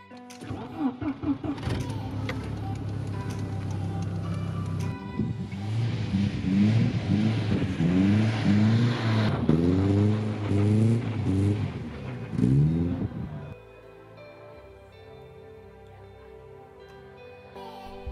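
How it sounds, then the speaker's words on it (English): A Volvo 740 with a race exhaust cranks, fires up and revs repeatedly in close, loud bursts, then drops to a quieter idle. "why not just start up the car, go out for some drift laps and let it heat up naturally"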